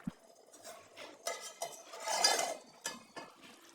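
A metal lid set onto a cooking pot of dried-fish curry with winter vegetables, a sharp clink at the start, then scraping and clattering of cookware, quiet and close, no talk.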